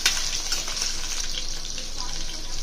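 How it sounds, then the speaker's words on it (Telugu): Pieces of drumstick (moringa pod) frying in hot oil in a pan, a steady close sizzle and crackle with faint stirring, continuous and moderately loud. "మునక్కాయ ముక్కల్ని బాగా ఫ్రై చేసుకోవాలి"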